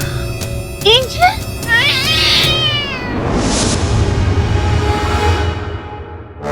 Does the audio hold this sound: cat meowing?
yes